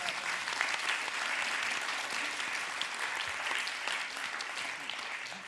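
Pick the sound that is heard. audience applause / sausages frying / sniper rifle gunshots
audience applause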